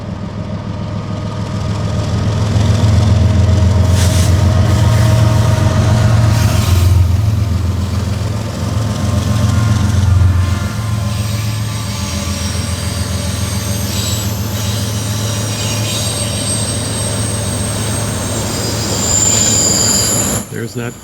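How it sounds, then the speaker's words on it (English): A BNSF freight train of grain cars and double-stack containers rolls past at Carkeek Park, a loud continuous rumble of wheels and cars with squealing flanges, close by, while someone talks briefly. "This train might be going a little faster if it wasn't following the train we just saw."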